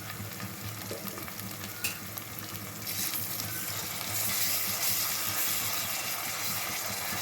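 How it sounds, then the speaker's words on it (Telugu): Fresh ginger garlic paste fries in a pan for a tomato gongura curry, making a continuous close sizzle that grows louder and hissier partway through. "పచ్చి వాసన పోయే వరకు వేయించుకోవాలి"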